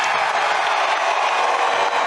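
Crowd applause and noise for DJT fill the space as a steady, dense wash of sound, loud and continuous throughout, with no clear single voice standing out.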